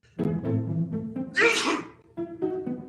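A single loud, close human sneeze bursts out between stretches of nearby talking, with a voice speaking before and after it.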